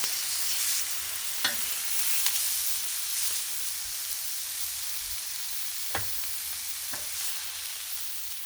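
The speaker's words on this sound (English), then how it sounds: "While I'm searing, or trying to sear this last piece" Sirloin steak sears on a griddle with a constant bright hiss, broken by a few brief utensil clicks.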